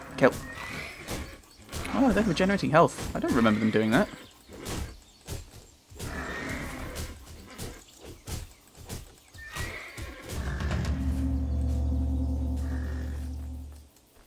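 In the Titan Quest video game, a horse neighs and whinnies in shrill bursts amid hoof clops and combat noise, followed by a low sustained drone, while someone talks over it.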